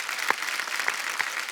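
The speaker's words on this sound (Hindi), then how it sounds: "जोरदार तालियां बनती हैं।" Studio audience at a televised Hindi comedy show bursts into loud, sustained applause, a dense wash of clapping that stays steady for the whole moment, with no talking over it.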